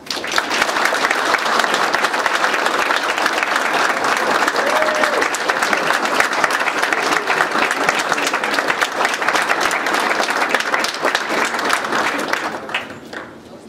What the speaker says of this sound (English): please give a warm welcome of applause for Commander Torath